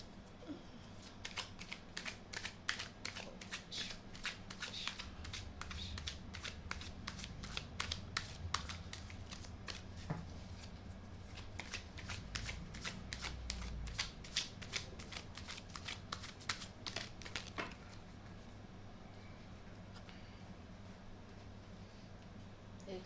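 A deck of tarot cards is shuffled for a long stretch, a dense rapid train of soft close clicks and flutters that stops near the end, leaving quiet room noise, with no talking.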